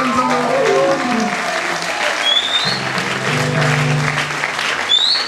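A church congregation applauds steadily and loudly throughout, a dense continuous clatter of clapping with a voice speaking over it.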